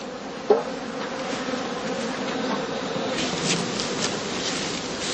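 Honeybees buzzing around heather skeps in a heathland apiary during autumn feeding, a dense continuous hum of many insects at moderate distance with one brief knock near the start.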